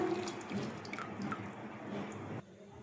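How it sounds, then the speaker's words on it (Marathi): Cut jackfruit pieces are rinsed in salt water, giving soft splashes and drips of water in a basin, faint and close, stopping abruptly near the end. "मिठाच्या पाण्याने स्वच्छ धुवून घेत आहे।"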